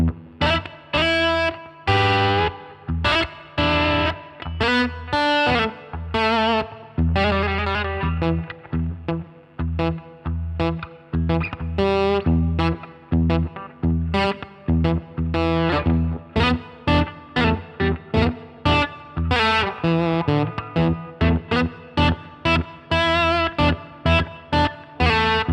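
Electric guitar played through a Marshall DSL1CR 1-watt amp set for low-gain overdrive, with volume pushed so it just breaks up: bluesy chords and single-note licks, close and loud, with rhythmic stops and strums across the whole stretch.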